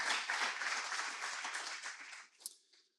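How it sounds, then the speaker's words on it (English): Audience applause for the FinTech North team at a conference session in Newcastle, a sustained burst of many hands clapping that fades out near the end, with no talk over it. "Can we have a round of applause for the FinTech North team"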